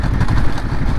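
A 2023 Ducati Monster engine running steadily in fourth gear at low speed, around 29 km/h, with a loud, close, continuous rumble that has a light tapping clatter.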